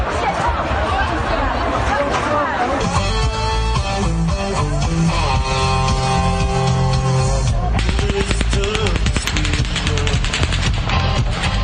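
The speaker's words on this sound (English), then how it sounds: "there's no doubt that is an automatic weapon and a high-powered automatic weapon." Rapid bursts of high-powered automatic weapon fire at a crowded outdoor concert, dense cracking volleys amid crowd noise and voices, with a sustained burst in the middle and more shots toward the end.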